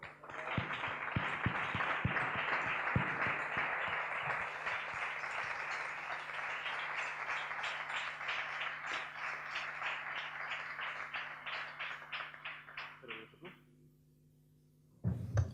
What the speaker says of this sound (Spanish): yo primero un aplauso.